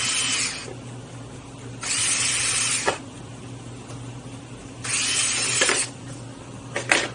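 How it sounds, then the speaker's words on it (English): Two long bursts of a power drill, starting to give out, buzzing up close, with quiet gaps and a few clicks in between; no voices, while a cat door is installed. "Drill's giving out on me."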